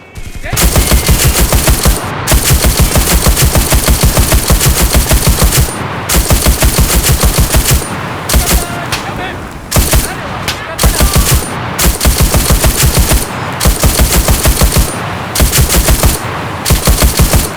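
A machine gun in the video game Enlisted, set in a Pacific War battle at the Tenaru River, fires long rapid bursts of loud, close shots separated by brief pauses.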